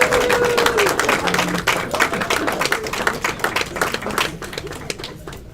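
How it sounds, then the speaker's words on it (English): An audience at a theatre premiere gives a round of applause, dense clapping that fades gradually toward the end, with a few voices and whoops mixed in. "How about one big round of applause now for Captain Ambivalent?"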